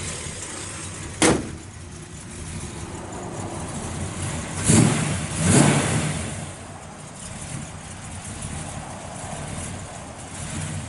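A 1967 Chevrolet Chevelle SS 396 with a mild cam rumbles steadily through its exhaust, with a few short, sharp revs breaking through the low idle, close by.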